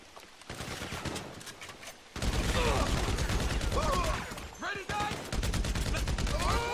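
Rapid automatic gunfire in GTA 5 Online during a Maze Bank survival match, dense bursts of shots in quick succession, quieter at first and then loud and sustained, with voices talking underneath.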